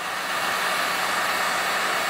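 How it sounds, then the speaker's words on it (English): A steady, loud rush of blown air, like a hot-air tool running continuously with no pauses. "The reason I use a heat gun"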